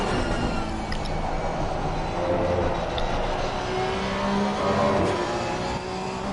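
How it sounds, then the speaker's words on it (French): Porsche Cup race car heard onboard at Donington Park, its engine a sustained loud whine rising and falling through revs and gear changes, continuous and close, without talk. "Et surtout le bruit de la voiture que je vais vous laisser déguster un tout petit peu."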